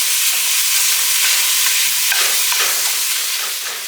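Thawed beef for chili sizzles in a hot pan while being chopped and stirred, a steady close broadband frying hiss with brief scraping bursts in the middle, no talking.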